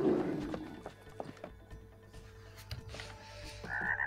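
Repeated frog croaks from the video game It Takes Two sound alongside soft clip-clop steps and ambient background noise.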